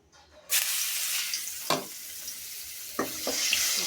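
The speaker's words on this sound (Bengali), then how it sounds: "এই তেলের মধ্যেই হলো আমি এখন পেঁয়াজ কুচি দিয়ে দেবো" Chopped onion dropped into hot oil left from frying fish: a sudden loud sizzle bursts in and holds steady, with a few clinks of a utensil stirring the pan.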